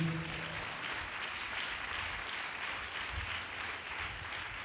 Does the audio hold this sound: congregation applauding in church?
yes